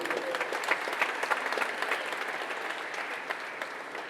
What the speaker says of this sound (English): A round of applause for this wonderful young man.